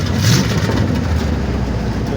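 A street car's engine roars through freshly installed Flowmaster mufflers on long-tube headers inside a muffler shop, a loud, close, steady throaty drone with no voices over it.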